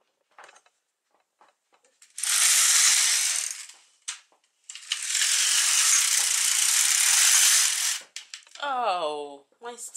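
The carriage of an LK150 or K360 knitting machine sweeps across rows of waste yarn in two long, loud, whooshing passes with rattles and clicks between them, and a brief voice follows.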